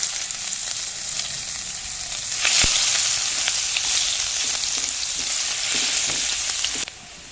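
Loud, close sizzling of chopped onion and five-spice seeds frying in oil, a steady hiss that swells briefly partway through, with faint scraping now and then and no voices.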